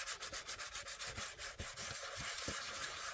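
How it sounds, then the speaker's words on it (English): Hand sanding of Bondo body filler with 320-grit sandpaper during model build prep, a quick rhythmic back-and-forth scratching of about four strokes per second, close and steady with no talking. "I'm going to go over it once more with this 320, and then I'm going to bring it down to 400 grit"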